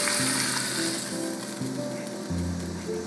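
Food browning in a pan for homemade tomato sauce, a steady close sizzle and frying crackle throughout with a few faint clinks and stirring bumps.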